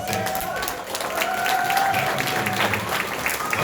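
Crowd applause and cheering at a Twiztid fan panel at the Astronomicon convention, a steady wash of clapping with voices and a few shouts rising through it, moderately loud and close.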